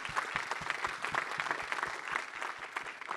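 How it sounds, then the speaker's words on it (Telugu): Audience applause at a Telugu movie pre-release event, a steady wash of clapping from a large crowd that holds even and loud for the whole stretch with no talk over it. "First big round of applause for this."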